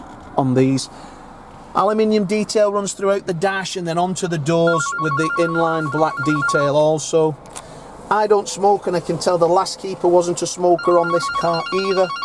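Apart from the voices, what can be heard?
mobile phone ringing in pocket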